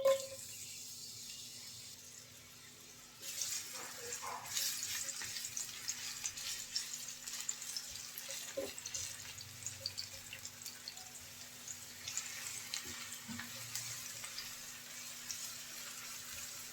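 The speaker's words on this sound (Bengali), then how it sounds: "পেঁয়াজটা হালকা ভেজে নিয়েছি" Chopped onions frying lightly in oil, a soft continuous sizzle with a few faint clicks, quiet and close, no voices.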